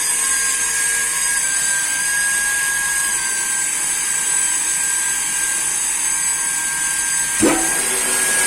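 A high pressure pump runs in a 500 LPH reverse osmosis water plant, producing a steady loud whining hum with tonal lines, and a brief thump near the end.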